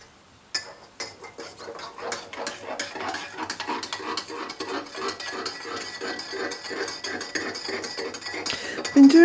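Spoon stirring a pot, a quick series of light metallic clinks and scrapes in a steady rhythm, close and fairly clear, growing a little busier toward the end, with no voices.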